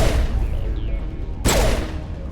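A single loud gunshot blast in the video game Mass Effect, an abrupt sharp crack over a constant low rumble of combat ambience, with a fading tail afterward.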